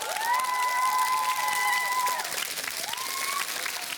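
Audience applause for a quiz team's result at a school quiz show: steady, dense clapping from a crowd throughout, with a sustained tone and a brief cheer or shout blended in, no talk over it.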